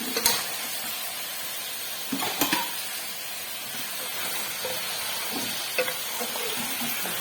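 Beef pours into a spice paste frying for a potato curry and gets stirred; a steady dense sizzle runs throughout, with a few clacks and scrapes from stirring, and no talk.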